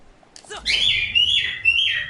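Pet birds chirp loudly and close by, a bright rapid trill of tweets and whistled calls that runs on without a break after a short quiet start.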